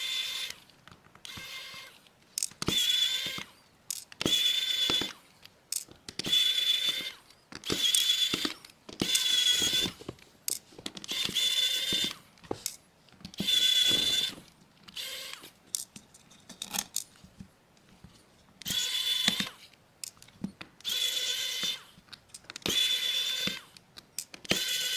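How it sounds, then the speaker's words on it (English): A Phillips screwdriver backs screws out of a BLU G84 phone during teardown, repeated bursts of close metallic ratcheting clicks separated by short pauses. "And then we'll get in here with the regular Phillips and get those screws out."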